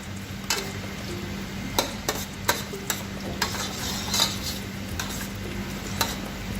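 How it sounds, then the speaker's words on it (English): Garlic frying in a pan, a steady soft sizzle with stirring clinks and scrapes of a utensil against the pan at irregular intervals, close and moderately quiet with no talk. "We will not over fry the garlic, which we just sweeten the garlic."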